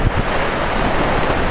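Stormy sea at Vityazevo, with rough waves crashing and strong wind buffeting the microphone, a dense, loud and continuous roar with no voices.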